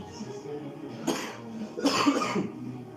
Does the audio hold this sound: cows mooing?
no